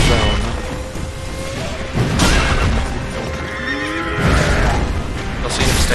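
A horse in the video game Sekiro whinnies loudly amid dense game noise, with heavy thuds, hoofbeats and combat rumble layered close together.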